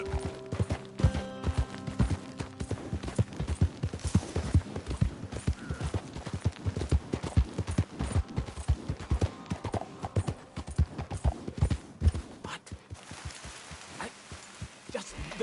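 Horse hooves galloping in the video game Red Dead Redemption 2, a steady rapid clatter of hoofbeats running throughout, close and prominent, with faint mechanical game sounds and a brief lull near the end.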